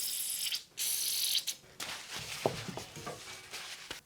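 A metal C-stand joint rotated by hand after being lubricated gives off close grinding, clicking and scraping, with short ratchety creaks and a few sharper ticks, and no voices.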